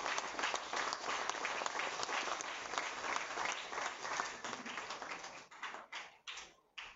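An audience at an inauguration event for a former Coca-Cola depot applauds in a sustained, fairly distant patter of many hands that thins out and breaks into scattered final claps near the end.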